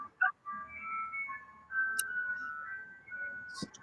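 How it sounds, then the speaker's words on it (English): An ice cream truck's tinkling melody plays in the background, a thin wavering chime tune with a few clinking glassy notes, faint and distant, no talk over it. "Somebody has a ice cream truck in the background."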